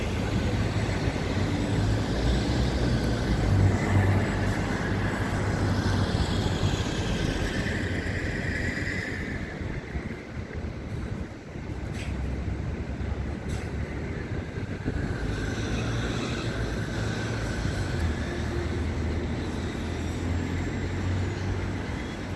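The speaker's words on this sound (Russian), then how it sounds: "Мы у Киевского вокзала." Busy outdoor street ambience outside Kievsky railway station in Moscow on a cloudy autumn day, with a steady, loud wash of nearby traffic, engines and passing vehicles continuing throughout without a break.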